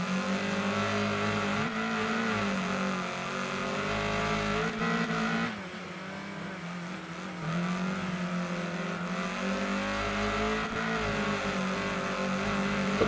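Race cars in the video game Wreckfest 2 drone and rev continuously during a long ranked race, engine tones rising and falling with gear shifts and a brief dip, fairly quiet, with no talk.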